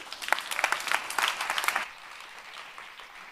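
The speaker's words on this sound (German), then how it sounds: "einen ganz herzlichen Applaus" A youth hackathon audience in Berlin claps loudly for a presenting team, a dense burst of applause that cuts off abruptly partway through and leaves quiet room tone behind.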